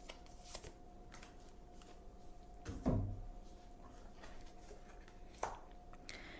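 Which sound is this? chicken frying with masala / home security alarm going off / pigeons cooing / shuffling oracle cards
shuffling oracle cards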